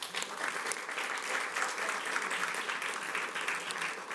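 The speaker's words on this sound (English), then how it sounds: "And I think we should applaud that again." A crowd applauds steadily at a school board meeting, dense clapping filling the room at an even level throughout.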